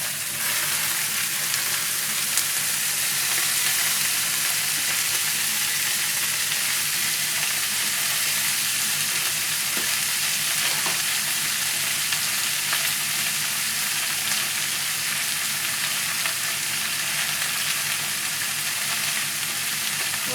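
Meat and vegetables sizzle steadily in a hot pan for yaki udon, a dense, even crackle and hiss that stays loud and unbroken throughout with no talking.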